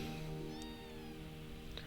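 A cat meows in the video game Trails to Azure, a short, faint cry over quiet background music, alone without talk.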